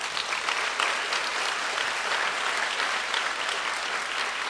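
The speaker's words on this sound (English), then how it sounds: "Can you clap for them?" An audience at a youth volunteer programme celebration gives a warm, steady round of applause, broad and even throughout, with no speech over it.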